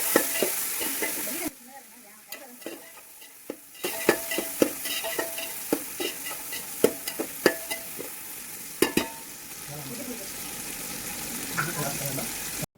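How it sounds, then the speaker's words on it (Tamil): Onions and chopped tomatoes sautéing in a pan for chicken biryani, with frequent clattering spoon stirs over a close sizzle, a brief quiet gap early on, and a faint voice in places. "வெங்காயத்தோடு சேர்த்து நல்லா வதக்கி விட்டுக்கலாம்."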